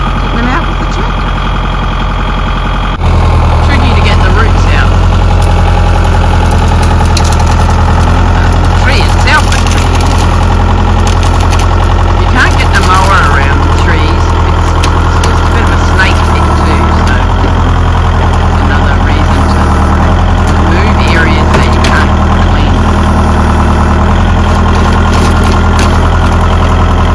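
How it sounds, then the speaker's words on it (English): A tractor engine runs loud and close throughout while working to pull trees out of the ground, holding a steady heavy drone that steps up in power after the first few seconds, with occasional scraping and creaking over the top. "just having a go at getting them out with the tractor."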